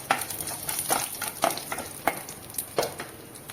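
Urad dal and dried red chilli sizzle in hot oil in a pan while a spoon stirs them, with steady frying hiss and several distinct scraping strokes, close and clear.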